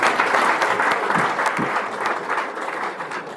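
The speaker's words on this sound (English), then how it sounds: "Let's clap for them." Audience at a Sunyani Technical University entrepreneurship talk applauds the students, steady dense clapping filling the whole stretch at full loudness with a few sharper individual claps standing out.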